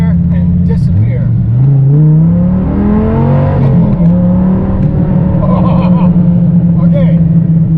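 A Dodge Viper with a Belanger exhaust accelerates from inside the car, a loud, deep engine drone rising steadily in pitch through the gear, then holding a strong rumble; someone talks over it.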